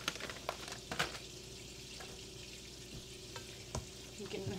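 Food sizzles and crackles steadily in a hot pan, with occasional sharper pops and spatters, close by and fairly quiet.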